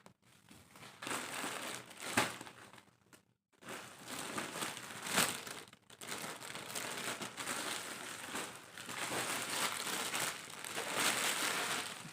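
Plastic packaging around a lawn suit crinkles and rustles up close as it is unwrapped, in continuous crackling bursts with a couple of brief pauses.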